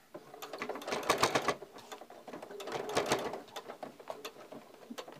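A sewing machine stitching fabric for a face mask runs in quick, close, rattling bursts that swell and ease over about five seconds, with no talk over it.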